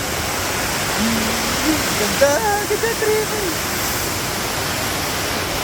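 Sangbay Falls in Pugo, La Union rushes with a loud, steady roar of falling water that fills the whole stretch, while someone talks briefly over it partway through.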